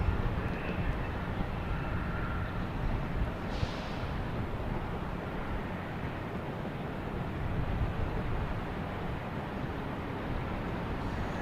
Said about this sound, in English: we have American Airlines stand up to cancer, taking off on 4 right, heading to Dallas Fort Worth